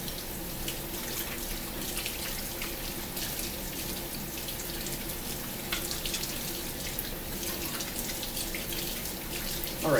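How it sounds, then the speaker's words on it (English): Cold water runs steadily from a kitchen tap over fruit in a sink, a continuous close splashing wash that stays even throughout with no talking. "leaving the tap running"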